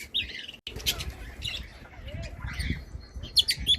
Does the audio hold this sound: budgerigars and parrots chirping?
yes